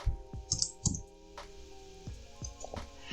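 Computer keyboard typing while writing SQL code, a few quiet separate key clicks and taps spread irregularly over a few seconds, close and soft with no talking.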